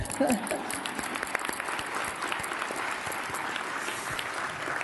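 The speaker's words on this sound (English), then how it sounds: "let's give them a round of applause, but you did, so do it again" A luncheon audience of guests applauds in a broad, steady wash of clapping that fills the room, with a voice briefly audible near the start.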